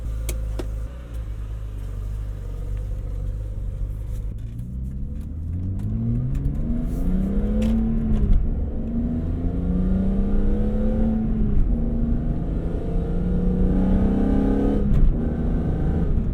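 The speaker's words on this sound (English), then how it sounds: "I forgot how mean this induction noise was" BMW E46 M3 with SMG gearbox accelerating hard, its engine induction noise rising in pitch through the revs in steady sweeps, loud and close from inside the cabin, with no talk over it.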